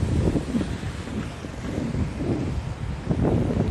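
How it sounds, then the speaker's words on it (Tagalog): Steady roar of wind buffeting the microphone with a broad rushing water wash beneath at Niagara Falls, continuous and fairly loud throughout, with no talking. "Kaya nakikita na natin ang Niagara Falls."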